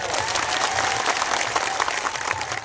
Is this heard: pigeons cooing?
no